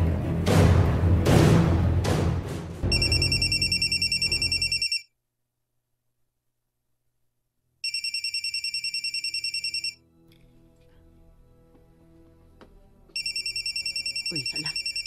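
A telephone rings with an incoming call, three loud electronic ring bursts separated by pauses, the first overlapping busy noisy sounds and the gaps holding faint background noise.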